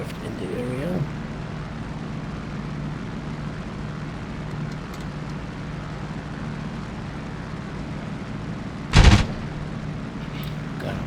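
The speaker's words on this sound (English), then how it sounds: "Gun check." In the DCS F4U-1D Corsair flight simulator, a short machine-gun burst fires once near the end over a steady drone of the piston-engine fighter in flight.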